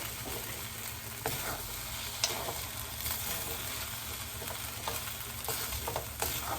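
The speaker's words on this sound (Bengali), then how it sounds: "ভালো করে নাড়িয়ে নেবো" A spoon stirs rice cooked with fish head in a pot for Bengali muri ghonto, with a steady soft sizzle and repeated scraping strokes close by, no talk.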